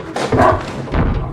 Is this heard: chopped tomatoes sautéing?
no